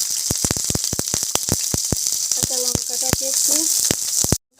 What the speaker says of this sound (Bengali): তেলটা গরম হয়ে গেছে। প্রথম আমি কড়াইতে দিয়ে দিচ্ছি কাঁচা